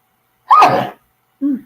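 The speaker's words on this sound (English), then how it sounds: "I feel like I have to sneeze" A single sharp sneeze bursts out close by, followed a moment later by a short, softer vocal sound.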